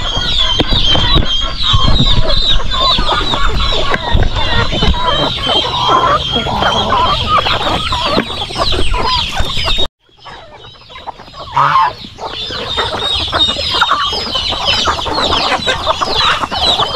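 Farm chickens cluck and squawk busily while pecking at corn, a dense continuous chorus of hens close by, briefly dropping out before resuming.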